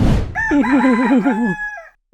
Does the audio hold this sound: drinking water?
no